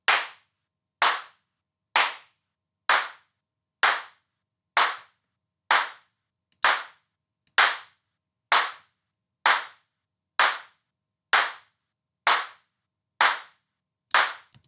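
Synthesized clap sample built for a sound design tutorial, struck about fourteen times at a steady one-per-second pace, each hit sharp, bright and dry with a quick decay and silence between.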